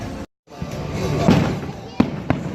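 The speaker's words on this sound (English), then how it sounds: "I just encountered fireworks at the park." Several sharp bangs from fireworks pop at a distance, including a louder crack near the end, over a steady wash of crowd and park noise at the Six Flags Great Adventure amusement park on a windy day.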